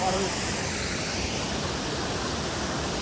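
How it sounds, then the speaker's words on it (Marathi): A waterfall seen during an outdoor Marathi vlog outing roars as a steady, loud broadband rush of falling water, filling the whole clip without a break. "बघू शकताय तुम्ही त्या साईडला धबधबा"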